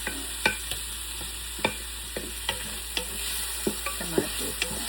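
Tomatoes dropped in with onions frying in a pan for beef stew, a steady sizzle broken by repeated stirring scrapes and taps, close and fairly quiet with no talking.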